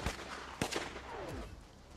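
Assault rifle shots in the zombie survival game Infection Free Zone, a few faint, quick cracks spread over a couple of seconds against low background noise.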